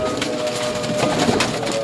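Pigeons of a Peepal-bred flying strain coo softly in a loft, a low continuous murmur of overlapping calls with a steady tone running beneath, no voices present.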